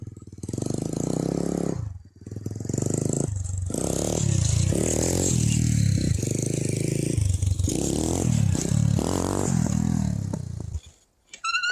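Motorcycle engine revved on throttle alone, with no body weight shifted, during wheelie practice; loud repeated rising and falling revs with rattling and clatter over nearly twelve seconds, dipping briefly near the start and again at the end.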